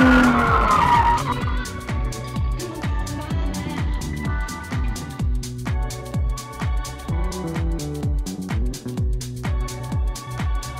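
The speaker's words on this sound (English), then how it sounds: "you give throttle the car, and the car will get sideways and keep spinning the tires" A car drifting sideways on a track, tires spinning and squealing in rhythmic bursts as the engine revs rise and fall, loud and close with no talk.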